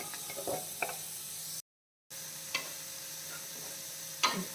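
Ingredients being sautéed in a hot pan, soft sizzling with occasional scraping stir strokes and light clicks of a spatula, close and fairly quiet, with a brief dropout in the middle.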